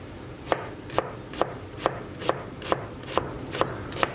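A knife slicing a peeled brown onion thinly on a board, nine crisp, evenly spaced cuts about half a second apart, close and clear over a quiet background.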